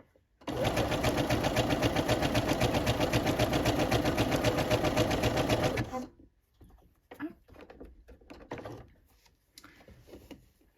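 A sewing machine runs fast and steadily for about five seconds, stitching elastic onto a bodysuit. It stops abruptly, and quieter handling clicks and rustles of fabric follow, close by and with no talk.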